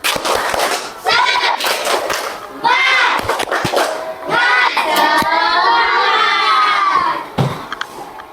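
Children in a classroom shout and chant energetically in a group, with bursts of sharp rhythmic clapping between their voices.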